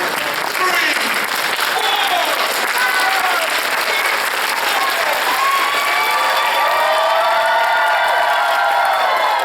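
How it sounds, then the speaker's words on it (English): Audience at a community musical production cheers and applauds loudly, with whoops and shouts over dense, sustained clapping that fills the whole stretch at close range. "hollering and cheering as if your personal favorite sports team just won"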